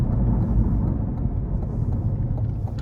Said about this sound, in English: the tires are a bit loud as I'm coming up this on-ramp here